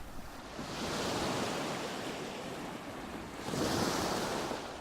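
Ocean waves wash in and out in two slow surges, a broad rushing hiss that swells and fades, with no voices.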